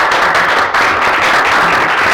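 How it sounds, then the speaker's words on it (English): At a township committee meeting, the room breaks into loud, continuous applause for the police department, a dense wash of many hands clapping together close by, with no talk over it. "This is the time where people typically clap."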